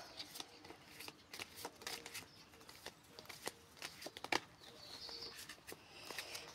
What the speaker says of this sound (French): Je vais remélanger.